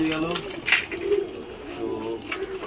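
Pigeons cooing and stirring as a flock is let out of its loft, soft coos and wing flutter close by under someone talking.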